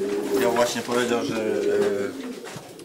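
A pigeon coos in a pigeon loft, soft rolling coos repeating close by under a man's speech that runs through most of the moment.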